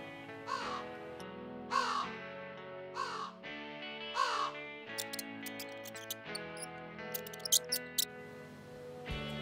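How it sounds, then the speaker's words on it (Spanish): A crow gives a series of harsh, nasal caws, about four distinct calls spaced a second or so apart, close and clear, followed by faint high squeaks. "Esta ave tiene las plumas muy negras. ¡Es un cuervo!"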